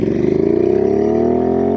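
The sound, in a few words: motorcycle engine with aftermarket exhaust revving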